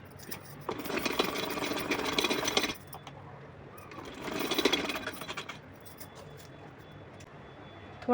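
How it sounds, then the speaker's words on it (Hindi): A sewing machine stitches a small dress for a Laddu Gopal idol, running in two close bursts of rapid, rattling needle action, about two seconds each, separated by a quieter pause with faint handling noise. "तब इस तरह से मैं इस पर सिलाई लगाऊँगी"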